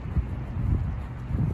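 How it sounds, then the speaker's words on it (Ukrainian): Steady low wind rumble buffeting the microphone during rain, with gusty swells and no other clear sounds. "вітер"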